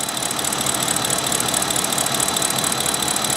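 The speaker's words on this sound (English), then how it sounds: "I've let the engine run for about 30 minutes now." A BMW N62 V8 car engine idles steadily after coolant transfer pipe repair, a continuous low rumble with a faint rhythmic knock, close by and unchanging throughout.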